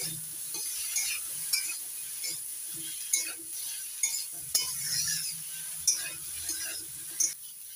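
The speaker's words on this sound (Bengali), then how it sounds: "এবার নাড়াচাড়া করে দিচ্ছি।" A spatula stirs hilsa fish curry in a pan under a steady sizzle, with repeated scraping strokes and light metallic clinks at an irregular rhythm, close and alone.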